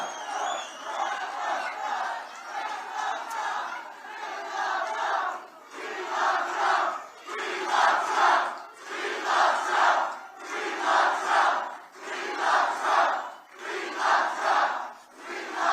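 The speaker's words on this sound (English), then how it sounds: "The crowd's reaction, priceless." A rally crowd roars and chants in loud rhythmic swells, repeated bursts of massed voices rising and falling every second or so, close and sustained throughout.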